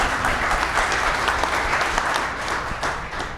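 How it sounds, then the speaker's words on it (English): An audience at a tech conference session on logistics and autonomy breaks into steady applause, a full, even wash of many hands clapping that holds throughout and fades only slightly near the end. "I think that gets a round of applause."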